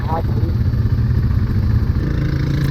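A motorcycle engine on a road trip across Peru runs with a low, steady, rumbling idle close to the microphone, while people talk over it.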